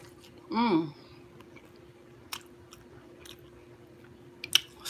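Someone chews crunchy, crispy fried catfish, with faint, sparse crunches and bites spread over a few seconds after a brief vocal murmur, all quiet and close.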